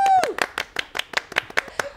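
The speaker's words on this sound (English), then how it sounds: "Applause, though." Rhythmic hand clapping from a small audience at a neighborhood Halloween family performance, roughly a dozen sharp, evenly spaced claps with a voice audible at the start.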